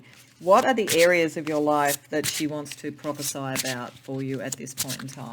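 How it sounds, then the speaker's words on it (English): Tarot cards being shuffled in a reading make a soft, continuous riffling rub underneath someone speaking clearly and close throughout. "while I'm shuffling"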